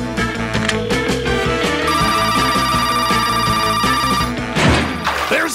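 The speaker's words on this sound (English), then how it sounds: "There's that ringing sound again!" A cartoon telephone bell rings steadily over busy music, with a crash near the end.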